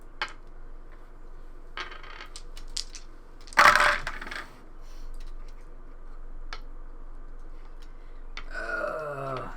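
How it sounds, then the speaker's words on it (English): Dice rolled during a Story Cubes game rattle and clatter in a short, loud burst near the middle, with a few faint ticks and knocks before and after in an otherwise quiet room. "I'm rolling dice here."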